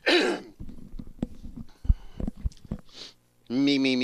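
A man clears his throat, a rough, raspy burst near the mic at the start, followed by scattered throat noises and brief voiced sounds, with a short harmonic vocal tone at the end.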